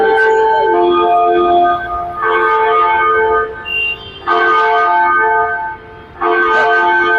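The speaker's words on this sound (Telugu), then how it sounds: "గంట కొడుతుంది. నింపుతున్నారా క్లాక్ టవర్?" Clock tower bell in Hyderabad striking at noon: four loud, close, ringing peals with long shimmering decays, evenly spaced, with no talking.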